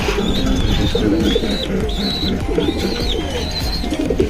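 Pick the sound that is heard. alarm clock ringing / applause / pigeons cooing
pigeons cooing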